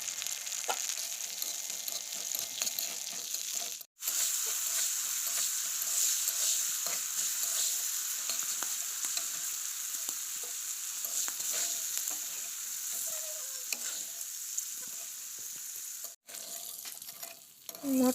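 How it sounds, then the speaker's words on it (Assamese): Dried peas frying in hot mustard oil in a wok, a steady close sizzle with occasional stirring scrapes and two brief breaks in the sound, with no talk. "মটৰ মাহখিনি ভাজি তুলি ল'ম"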